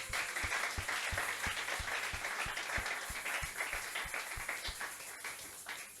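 A church congregation applauds steadily, a continuous roar of many hands clapping with an evenly pulsed beat of low thumps underneath, gradually easing toward the end.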